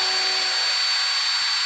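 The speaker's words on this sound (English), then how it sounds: "And here's what a drill sounds like going on." A power drill runs steadily in the background, a thin continuous whir with a high steady whine, faint and uninterrupted through the short stretch with no voices.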